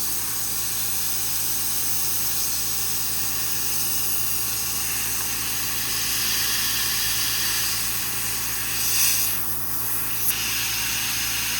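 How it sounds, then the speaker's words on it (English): LubeCube mist system on a PrintNC CNC machine spraying coolant from its nozzle, a constant loud hiss with a steady hum underneath. "now coolant is sprayed out of the nozzle."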